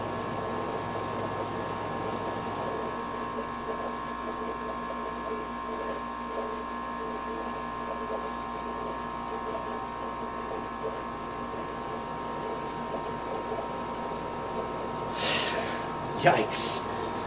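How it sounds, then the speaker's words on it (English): A running air conditioner with refrigerant gurgling and hissing, a steady mechanical hum and faint bubbling throughout, with a short rattling burst near the end. "I hear a lot of refrigerant sounds."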